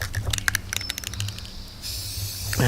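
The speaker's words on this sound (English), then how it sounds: "I'm spraying the inside first." Aerosol spray hissing onto the inside of a fabric-covered cuff bracelet, with a few short clicking taps first and then a long, steady, close spray.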